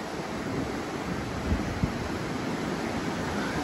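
Steady wind blowing across a rocky waterside nook among big rocks, a broad continuous rush with faint surf-like wash and a couple of brief low gusts buffeting the microphone.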